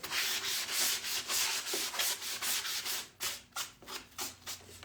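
Steady rhythmic rasping of sandpaper scrubbing back and forth over an old wooden chair, close up, with strokes growing shorter and choppier toward the end.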